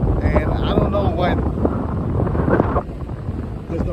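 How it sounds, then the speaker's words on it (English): Strong wind buffets the microphone on a beach pier at Imperial Beach, a loud, continuous low roar that dips briefly near the end, with a voice faintly in the mix. "It's windy, probably."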